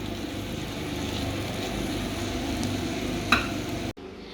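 Spices for a Goan king prawn curry frying in a pan, a steady close sizzle with faint stirring scrapes and one sharp knock near the end before it cuts off.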